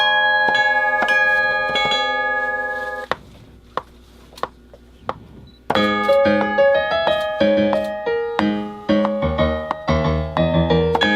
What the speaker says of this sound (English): Add that bell.